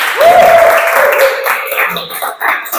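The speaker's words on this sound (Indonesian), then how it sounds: "Silakan beri aplaus untuk yang terakhir." Students clap in a university lecture hall, a short burst of applause rising as a voice briefly sounds over the start, then thinning into scattered claps.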